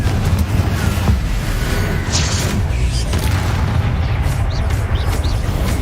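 Confringo blasting spell explosions in the video game Hogwarts Legacy, a dense, loud barrage of booming blasts and rumbling impacts running continuously amid battle against Inferi, with spell crackles flaring on top.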